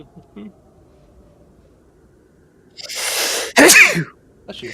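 A single sharp sneeze bursts out after a short voice and a quiet stretch, preceded by a breathy intake, with brief talk at the start and a faint voice at the end.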